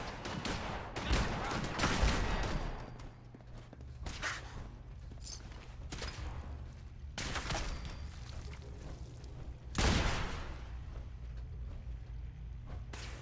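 Enemy turrets in Fallout 4 fire in bursts of rapid gunshots, some loud near cracks standing out against a steady rumbling background of distant shooting.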